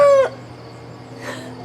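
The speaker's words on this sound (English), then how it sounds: "Let's look at the chickens here a second." A chicken gives a short, loud squawk up close on a farm, then the clip settles into a quiet barnyard hum with faint rustling.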